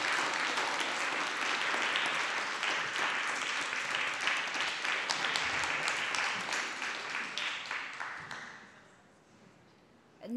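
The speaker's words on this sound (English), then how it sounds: "I welcome applause for Alexander Radioevich." Audience applause at an award ceremony for a PhD contest, a dense sustained round of clapping that stays even for several seconds, then thins and fades out near the end.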